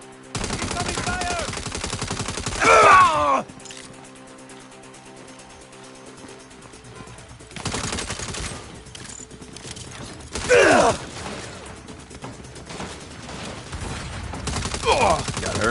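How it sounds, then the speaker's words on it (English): Bursts of automatic gunfire in the Saints Row video game, a few loud volleys a few seconds apart, with voices and game sounds between the shots. "Incoming fire!"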